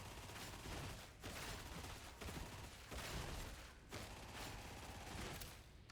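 Gunfire in Warhammer 40K: Darktide from a Veteran marksman build as marked enemies are shot, dense continuous bursts of shots with several short breaks, loud and steady throughout.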